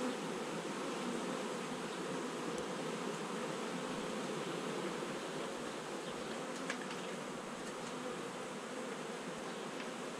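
Honey bees at an open hive during a colony inspection make a dense, even buzzing that holds steady and close for the whole stretch, with no voices over it.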